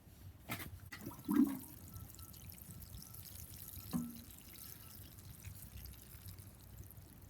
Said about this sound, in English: So now I'm going to give this a good water.